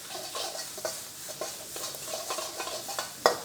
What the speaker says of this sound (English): stir around so everything is nice and combined